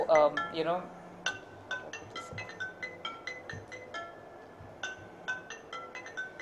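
A newly bought mobile phone plays a chiming, bell-like ringtone over and over in a steady rhythm after a brief burst of voice at the start.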